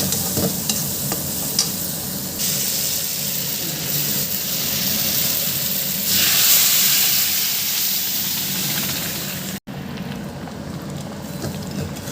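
Spices fried and stirred in a pan for a greens-and-lentil dish, with a steady sizzle and hiss and occasional scraping of a spoon against the metal, continuous and close.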